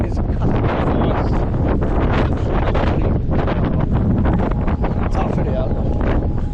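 Strong gusting wind buffets the microphone on an exposed platform at Horsetail Falls in Tasmania, a loud, continuous roaring rumble with bursts of crackle throughout.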